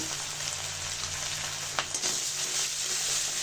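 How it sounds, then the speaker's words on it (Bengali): Raw spice paste frying in a pan for a Ramadan iftar meat and potato chop, with a steady broadband sizzle running throughout, close and fairly loud, and a couple of brief stir or clatter accents. "তো কাঁচা মশলাটা ভালো করে ভেজে নিব।"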